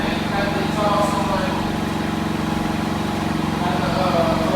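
A 2018 Harley-Davidson Road Glide with an exhaust leak fixed runs steadily with a deep, continuous engine rumble close by, with voices talking over it.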